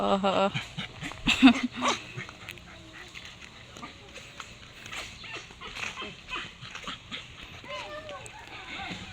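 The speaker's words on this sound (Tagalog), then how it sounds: "May tawan-tawa pong aso." A dog yips, whimpers and gives a few short barks close by, loudest at the start and then scattered and fainter, while people talk throughout.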